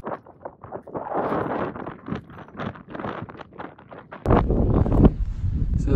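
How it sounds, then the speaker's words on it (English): Strong wind buffeting a microphone in uneven rumbling gusts on a backpacking trip near Pyramid Peak, Desolation Wilderness, growing heavier and more constant in the last couple of seconds. "still super windy"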